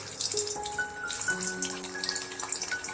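Fresh paneer sizzles as it goes into hot oil for a paneer biryani, making a steady, close crackle and hiss that lasts the whole three seconds.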